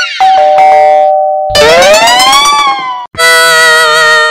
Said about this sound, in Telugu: తలుపు తట్టడం కాదండి, కాలింగ్ బెల్ కొట్టింది